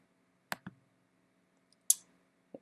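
A computer mouse clicking a play button, a few sharp isolated clicks spaced irregularly, close and crisp against near silence.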